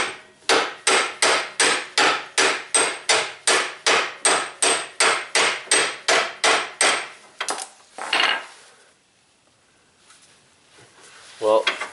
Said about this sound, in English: I'm going to hammer this in just a little more.